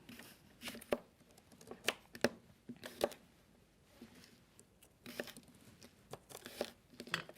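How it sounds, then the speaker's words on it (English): Kitchen knife slicing Brussels sprouts in half and dicing an apple on a cutting board, a faint, irregular series of close crisp cuts and taps with short pauses between bursts. "start slicing these Brussels sprouts in half. All right. And I'm going to dice this apple here."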